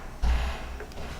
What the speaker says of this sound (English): That is the sound of a door.